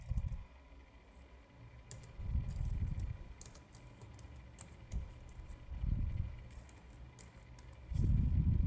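Computer keyboard typing arrives in several short bursts of quick key clicks, close and fairly quiet, separated by brief pauses with low background hum.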